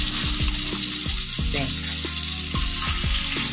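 Pieces of pork jowl fry in hot oil with a loud, steady sizzle, broken by repeated crackles and pops. No one speaks.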